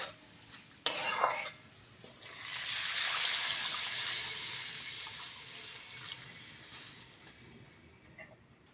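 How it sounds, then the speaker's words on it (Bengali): Water pours into mung dal already fried in a pan, a steady hiss-like splash that starts after a brief clatter and continues for several seconds, fairly close, with no talking. "এবার জল দিয়ে দেবো"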